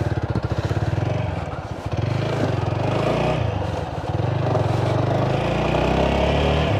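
A TVS Apache RTR 160 4V motorcycle rides through city traffic with a loud, close, throbbing engine drone. Its pitch rises and falls with throttle changes, and short dips mark gear shifts.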